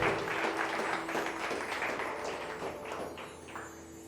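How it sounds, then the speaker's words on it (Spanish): Church congregation applauding together during a service, a steady wash of clapping that gradually thins toward the end, with faint background hum. "Dele un aplauso al Señor."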